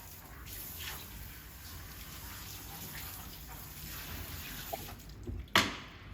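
Steady running water rinses a Cavalier King Charles Spaniel during a bath, a continuous close splashing flow with no talking, ending in a brief sharper splash or knock.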